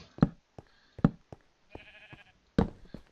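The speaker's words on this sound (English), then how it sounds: "Sheep." Sheep bleat in a blocky sandbox video game, several short, close bleats at uneven intervals mixed with soft game knocks and shuffles, no talking.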